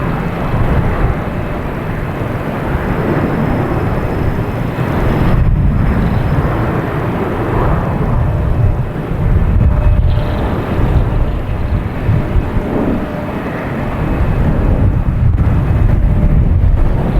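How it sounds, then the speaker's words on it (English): An Alaska Airlines Boeing 737-900 takes off at Boston Logan, its engines giving a loud, sustained broadband roar with some wind buffeting on the microphone throughout. "We have Alaskan Airlines taking off to Seattle. Flight 819, 737-900."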